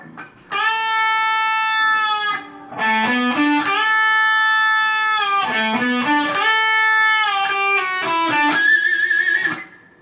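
A distorted electric guitar plays a quick melodic phrase from the solo, with bends and slides, ending on a held vibrato note, alone and up close.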